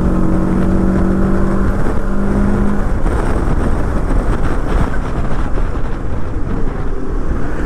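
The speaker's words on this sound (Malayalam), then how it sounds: "ഇതാണ് ഇതിൻ്റെ ബ്രേക്കിംഗ് റെസ്പോൺസ്. കണ്ടില്ലേ, നമ്മൾ 100ൽ നിന്ന് കട്ട് ചെയ്ത് ഒരു 50ലേക്കൊക്കെ വിത്തിൻ സെക്കൻഡ്സ് വന്നു." A Moto Morini X-Cape 650 motorcycle braking hard from about 100 to 50, heard as loud continuous engine and wind roar that drops in pitch partway through, with no voices.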